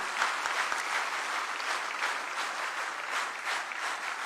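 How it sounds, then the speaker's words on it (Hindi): An audience at a stage ceremony breaks into steady, enthusiastic applause, a continuous dense clapping that stays fairly even throughout the few seconds. "और आप सब एक बार जोरदार तालियों से पूरे मंच को प्रणाम करें।"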